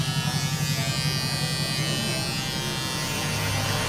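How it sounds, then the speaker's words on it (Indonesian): An electric shaver buzzes steadily and close up, smoothing a burst fade haircut on curly, stiff hair; the droning hum holds constant throughout. "Setelah itu kita shaver bagian sini untuk mendapatkan hasil yang lebih halus lagi."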